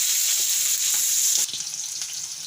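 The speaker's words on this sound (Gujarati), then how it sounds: "તો બટેટાને ને મરચાંને આપણે ઘડીક ચડવા દેવું." Potatoes and green chillies frying in a pan give a steady, loud sizzle, easing slightly partway through with faint stirring scrapes underneath.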